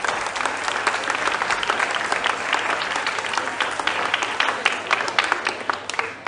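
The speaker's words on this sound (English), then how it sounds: "A round of applause, ladies and gentlemen, for Abor EP JHS." A crowd at a national schools quiz championship applauds contestants with loud, continuous clapping, many hands blending into a steady roar that tapers slightly at the close.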